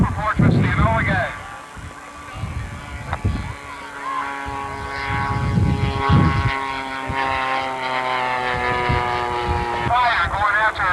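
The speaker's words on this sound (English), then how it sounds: "a flight of the B-29 Superfortress, the Enola Gay" A B-29 Superfortress bomber, the Enola Gay, flies over a field, its propeller engines droning steadily throughout while voices talk over it.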